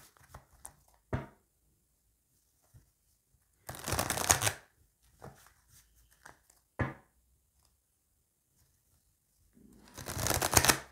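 Tarot cards are riffle-shuffled in several quick, crisp bursts, close and fairly loud, with quiet gaps and small taps from handling the deck between them.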